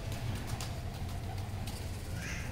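Low, soft cooing from pigeons kept by fanciers, a few throaty murmurs repeating near the ground beneath steady background hiss and rustle, with no voices.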